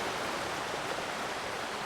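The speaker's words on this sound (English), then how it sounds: "there's a waterfall over here, atop an extraordinarily tall cliff" Waterfall in the game Among Trees, falling from a very tall cliff: a soft, steady rushing hiss of water, even and unbroken, heard alone.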